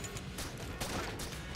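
Rapid bursts of small explosions from the nitro cell weapon in the video game Enter the Gungeon, a loud, dense, continuous barrage of blasts with no talking.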